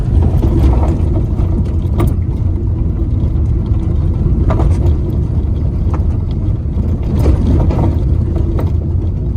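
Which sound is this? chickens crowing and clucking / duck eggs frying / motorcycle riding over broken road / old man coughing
motorcycle riding over broken road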